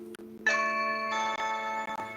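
A phone's alert tone sounds after a doorbell is rung, a steady multi-tone electronic chime with a quiet click just before it, holding clearly for about two seconds with brief dips.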